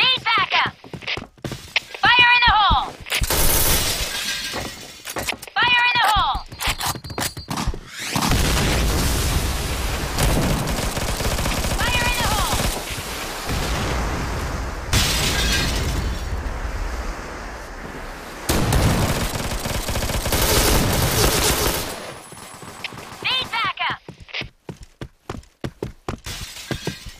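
Gunfire and explosions from the shooter video game Point Blank, with loud bursts of shots and blasts recurring through the stretch and mixed with game effects and music.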